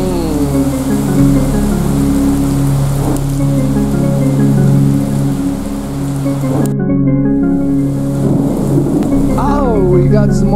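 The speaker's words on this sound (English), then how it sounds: "Oh, we got some more thunder." Steady rain with rumbling thunder from a daytime storm, a continuous loud wash of rainfall with low rolls of thunder swelling through it and a sharper crack partway through.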